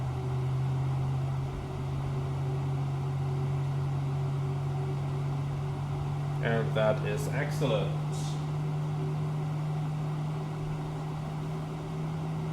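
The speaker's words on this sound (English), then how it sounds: "So, very good engine start." Airbus A321LR jet engine starting in the Flight Sim Labs simulator, a steady low drone and hum that holds throughout, with someone speaking briefly over it midway.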